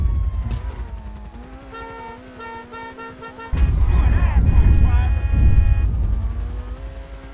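Police car siren in GTA V with the Chaos mod, a wailing, warbling tone rising and falling, first moderate and then louder alongside engine rumble and other game noise, with a voice talking over it.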